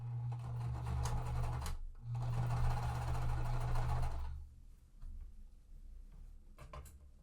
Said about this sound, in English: I'm gonna hold it until I start sewing.